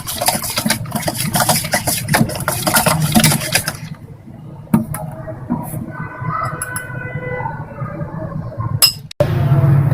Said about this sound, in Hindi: मशीन चलाए बगैर हमने बीटिंग मशीन से इस तरह हिलाकर जो है वो मिक्स कर लिया है सबको।